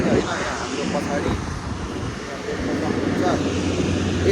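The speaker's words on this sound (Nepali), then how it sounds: "फाइनल्ली गाइस कुर्दा अहिले प्लेन आइसक्यो होइन हाम्रो पछाडि" An airliner's engines roar steadily at a Nepalese airport as a Yeti Airlines plane arrives on the Bhairahawa to Kathmandu route, heard under people talking nearby.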